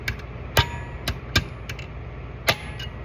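Sharp metal taps of a 5/16 wrench driving a stripped valve cover piece through on an LS engine, four distinct strikes spaced irregularly, close and ringing.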